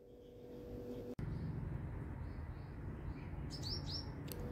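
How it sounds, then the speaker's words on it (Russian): Bird song from a small blue bird perched on a salvia in a garden in India, faint high chirps near the end over steady outdoor background noise. "Посмотрите, какая птичка справа, синенькая."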